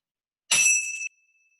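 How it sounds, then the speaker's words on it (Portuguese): A single bell strike gives a bright metallic ring, close and clear, that cuts off after about half a second and leaves a thin high tone fading slowly into silence. "Percebe se você consegue, por exemplo, escutar o sino até o fim"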